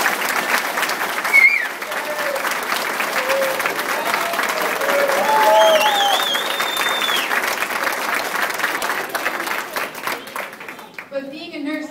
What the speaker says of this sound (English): they really deserve a round of applause for making it here today